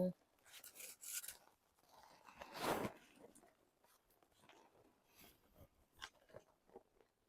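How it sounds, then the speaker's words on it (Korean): Close, quiet chewing of a Papa John's John's Favorite pizza that has gone cold, with soft, irregular bites and mouth crackles spread over several seconds and one louder crunch partway through. "그러면 피자를 또 먹어보겠습니다"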